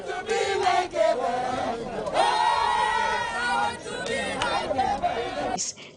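A crowd of party delegates at an Ablekuma Central primary, cheering and shouting together for a winning candidate in a loud, continuous mass of voices that rises and falls, close and lively.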